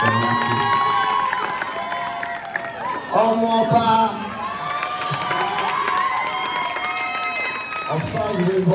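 An audience cheers and applauds loudly, with whoops, shouting voices and clapping blending into a lively, sustained crowd roar that briefly swells near the middle.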